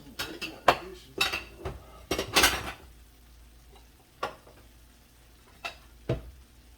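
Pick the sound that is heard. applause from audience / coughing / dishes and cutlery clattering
dishes and cutlery clattering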